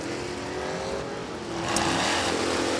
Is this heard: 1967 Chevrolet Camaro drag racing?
yes